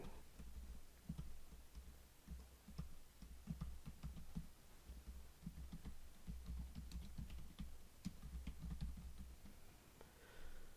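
Quiet typing on a computer keyboard, a steady run of soft clicking keystrokes in uneven bursts with brief pauses, close and faint over a low background hum.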